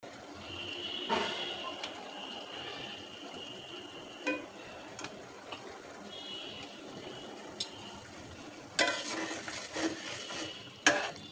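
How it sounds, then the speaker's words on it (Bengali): Shing fish being stirred into boiling spiced gravy in a pot, with a low bubbling simmer, a few sharp clinks of a utensil against the pot and a louder scraping burst near the end. "একটু নেড়ে দিতে হবে যেন মাছগুলোর ভিতরে মশলা ঢুকে যায়।"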